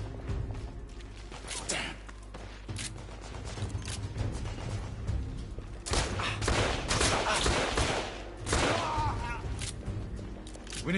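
Rapid gunfire bursts from a shootout in The Order: 1886, dense and continuous through the whole stretch, with someone talking over the shooting.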